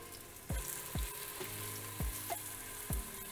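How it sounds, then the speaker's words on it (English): Chopped red onion and garlic cloves sauté in a pan with a low continuous sizzle, broken by four or five regular scraping stir strokes about a second apart, close and quiet with no talk. "So first we're gonna saute our red onion."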